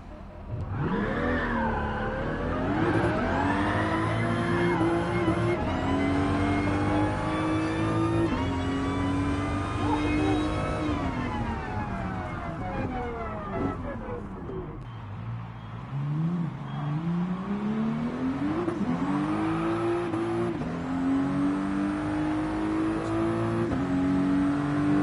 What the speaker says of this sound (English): I gotta hear the engine and the rest of the RPMs.